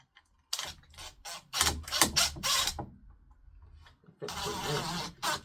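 Screws being driven during a fire alarm and security system installation in a garage, giving close, mechanical ratcheting whirs in short bursts with pauses and a longer final run.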